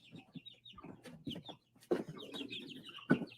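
A voice imitates a chicken for a storytime puppet, giving a series of soft, uneven clucks and squawky bursts with short pauses between them.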